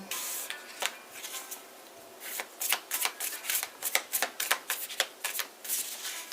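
A tarot deck shuffled at close range: scattered riffles at first, then a dense run of fast crackling card flicks, with no voices.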